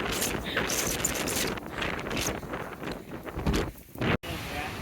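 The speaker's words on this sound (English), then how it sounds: "This wind is absolutely crazy." Strong gusts on a Pacific Crest Trail mountainside batter the microphone in loud, uneven bursts, roaring continuously and cutting out abruptly near the end.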